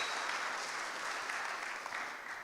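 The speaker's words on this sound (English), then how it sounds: "Can we give them a massive round of applause, please?" Applause at the Horror Game Awards, an even, continuous wash of many hands clapping, heard fairly far off and quiet, holding steady without any voices.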